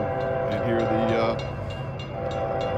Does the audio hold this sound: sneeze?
no